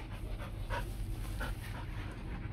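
Rottweiler dogs pant in quick, rhythmic breaths close by, steady throughout with no barking.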